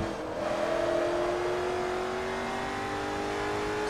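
Race car engine in Forza Motorsport 3 revving steadily, its pitch climbing slowly in a sustained, loud drone with no voices over it.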